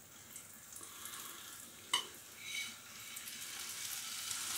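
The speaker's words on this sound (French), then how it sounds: "Délicatement, je vais mettre mes nuggets à cuire" Corn-flake-coated chicken nuggets go into a shallow layer of hot vegetable oil and fry with a steady, quiet hiss. A sharp tap partway through is followed by a short rise in the sizzle, then the frying settles into an even crackle.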